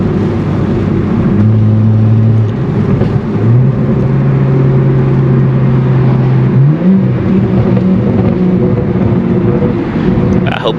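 BMW car exhaust heard with the window down as the driver downshifts, a close, low engine drone that rises and falls in pitch, with soft burbling under the steady cabin rumble.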